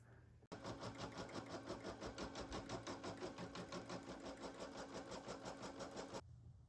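An embroidery machine runs the tack-down stitch that fixes a fabric piece to the hoop for an in-the-hoop stuffed bear. It starts abruptly with a close, steady, rapid stitching rhythm that continues alone and then stops just before the end.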